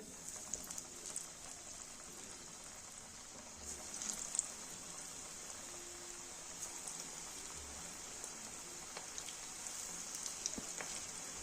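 Pakoras for kadhi frying in hot oil, a constant fine hiss and sizzle with scattered small pops and crackles, close and fairly quiet throughout.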